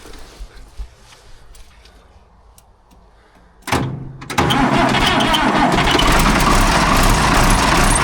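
A White tractor engine turns over and fires, then roars steadily at high revs as the throttle cable is pulled, loud and close after a few quiet knocks.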